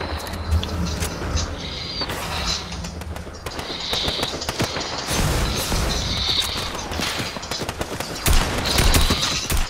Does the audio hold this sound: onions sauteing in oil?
no